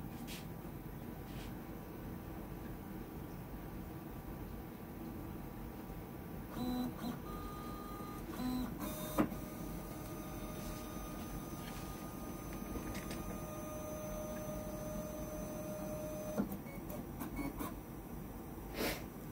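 Snapmaker 2 A350 linear modules running a positioning test, a steady mechanical drone with stepper motor whine and a few brief clicks and tonal shifts partway through, continuous and fairly close.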